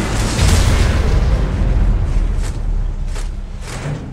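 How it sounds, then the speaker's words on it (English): Nuclear weapon launch and explosion in the mobile combat video game Rivals: a loud, deep rumbling boom that rolls on for several seconds and slowly fades, with no talking. "Unit nuclear weapon launch."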